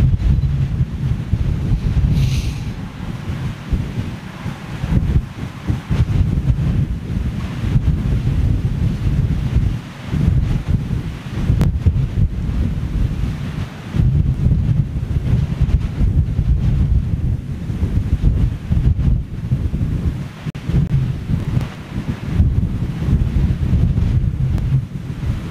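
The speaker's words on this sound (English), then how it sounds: "Yes, it is windy. Extremely windy." Extremely strong wind at Toulouse airport buffets the microphone in a loud, continuous roar with gusty surges and no pauses.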